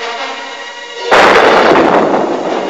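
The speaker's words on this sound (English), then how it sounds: "The disintegrator gun. I must destroy it." A cartoon disintegrator gun fires with a sudden loud blast that follows a sustained electronic hum, then the burst continues as a roaring, crackling wash of noise.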